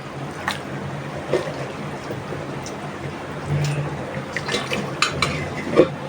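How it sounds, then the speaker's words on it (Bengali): Lentil dumplings stir-fried with spices, onion and garlic in a pan, with a soft steady sizzle and intermittent scraping and clinking of a spoon against metal, close by and without speech. "আস্তে আস্তে মশলার সাথে বড়িটা ভালোভাবে কষায় নিব"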